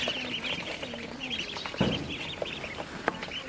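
One-week-old local chicks and Khaki Campbell ducklings peep and cheep continuously at close range, with scattered brief louder chirps and a short rustling thump near the middle.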